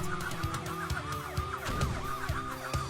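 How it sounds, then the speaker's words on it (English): A police-style siren wails as an alarm system in the video game Ty the Tasmanian Tiger, its repeated rising-and-falling sweeps cycling steadily over a pulsing game soundtrack. "I love that I'm hearing, like, police sirens, despite the fact, like, it's clearly just meant to be an alarm system"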